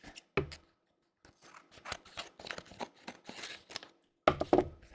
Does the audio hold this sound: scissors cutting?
yes